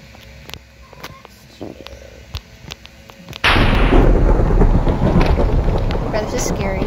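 A Minecraft thunderstorm sets in with a sudden, loud, sustained rumble of thunder and rain that swells midway and drowns out a quieter stretch of clicks and casual talk.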